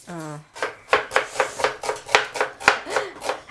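Onions are chopped quickly with a knife on a board, about a dozen sharp, evenly spaced strokes in a fast rhythm, close up, in a home kitchen, after a brief voice at the start.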